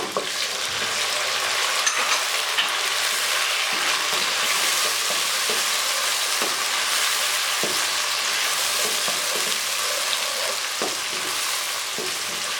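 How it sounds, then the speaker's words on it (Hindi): Tomatoes frying with lightly browned onions in a pan for a Lahori chicken cholay, a constant bright sizzle with occasional spatula knocks, close and alone. "अब हम थोड़ी देर के लिए टमाटर को इसमें फ्राई करेंगे"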